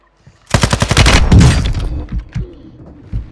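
Gunfire in Call of Duty: Modern Warfare II, a sudden loud burst of rapid automatic shots after a quiet start, followed by scattered single cracks and impacts trailing off.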